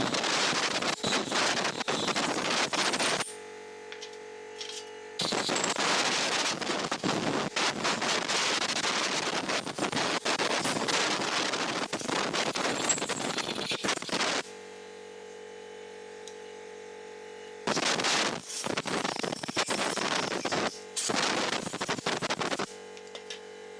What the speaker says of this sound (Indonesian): kita semprot menggunakan angin kompresor